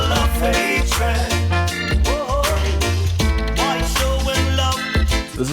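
A song from an album plays as dense full-band music with a sung melody over driving bass, continuous and loud throughout.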